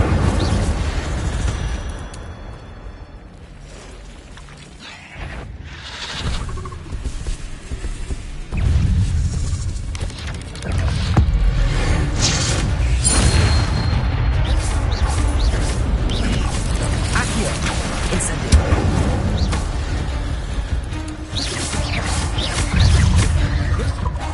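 Incendio fire spell bursts in Hogwarts Legacy combat on PS5, loud roaring whooshes and booming impacts layered over dense game effects, sustained and intense across the whole stretch.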